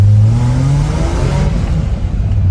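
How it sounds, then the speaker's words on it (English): A 1972 Datsun 240Z with a 5-speed on its first test drive, its engine droning steadily and rising in pitch as it accelerates through a gear, loud and close. "So this is the first test drive in this thing"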